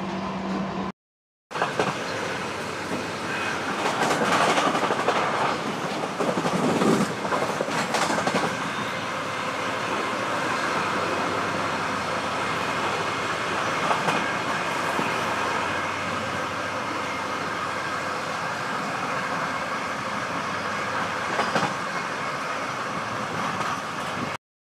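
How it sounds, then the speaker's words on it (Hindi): Brahmaputra Mail train running at full speed on an Indian railway line, heard from on board as a loud continuous rumbling roar with rhythmic clickety-clack of wheels over rail joints, steady for over twenty seconds after a brief dropout near the start. "फिलहाल हमारी ट्रेन, क्या बोले भाई साहब, एकदम फुल स्पीड की रफ्तार में चल रही है, दौड़ रही है"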